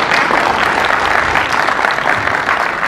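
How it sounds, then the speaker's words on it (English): Loud, sustained applause fills the room from an audience at a university summit and orientation as officials are introduced, with dense, even clapping throughout. "Yes, please clap, please clap"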